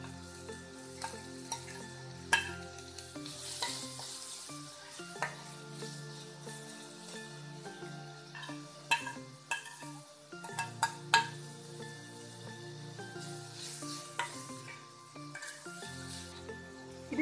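Chopped onions and green chilli sauté in a pan with a continuous sizzle, while a utensil scrapes and clinks against the pan in irregular bursts throughout.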